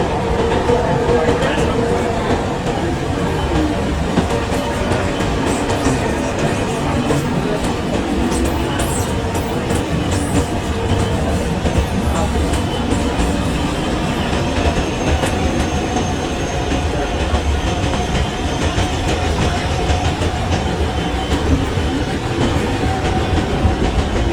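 An LRT light rail train runs between USJ7 and Putra Heights stations, with a loud steady rumble from inside the car, rhythmic clickety-clack from the wheels and faint voices in the background.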